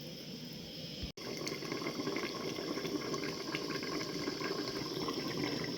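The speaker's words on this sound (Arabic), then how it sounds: "غادي نديروا غير كميه قليله من الماء، ما نكثروش" Water runs steadily from a tap or is poured into a cooking pot, a continuous splashing flow that breaks off briefly once near the start, with no voices.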